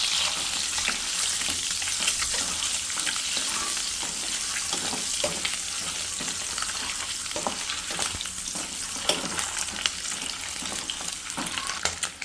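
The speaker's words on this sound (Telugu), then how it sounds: "సో ఎగ్స్ అయితే ఫ్రై అయిపోయాయి." Eggs fry in oil with turmeric and chili powder for a tomato and egg curry, a steady close sizzle running throughout, broken by regular scraping stirs of a spatula against the pan.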